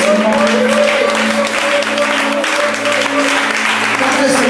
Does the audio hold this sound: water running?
no